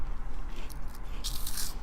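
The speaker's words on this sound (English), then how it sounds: "The crunch is different" Close crunching bites of Hot Fries snack chips, crisp brittle cracks over a steady background noise.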